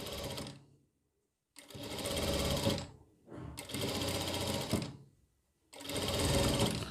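A sewing machine stitches a folded umbrella-style sleeve hem in four quick bursts of rapid whirring, separated by short pauses, close and clear.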